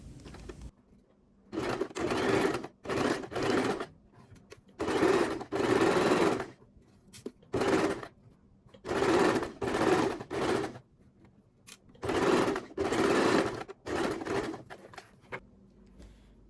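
A sewing machine stitches the curved seam of a men's trouser side pocket, whirring in repeated short runs of a second or two with quiet gaps between them as the fabric is guided along.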